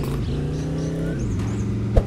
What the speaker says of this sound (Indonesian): Wih, mobil Jeep.